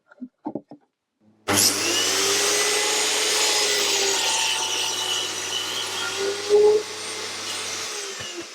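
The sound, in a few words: cutting small pieces of wood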